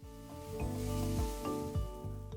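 Prawn stir fry seasoned with salt and pepper sizzling in a pan, a steady close hiss of frying with a tonal background hum and periodic scraping strokes of stirring.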